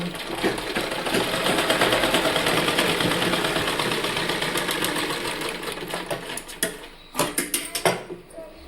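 Domestic sewing machine stitching warm fabric for a baby cap, a steady fast whirring run of needle strokes that slows and breaks into a few short bursts near the end.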